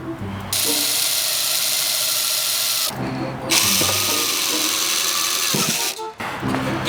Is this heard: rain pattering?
no